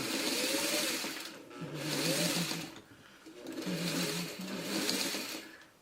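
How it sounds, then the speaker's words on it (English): A sewing machine stitches through bulky pieced fabric for a string basket, running in several steady bursts with brief pauses between them, loud and close with no voices. "And you don't want to sew over your pins on this because there's a lot of bulk there."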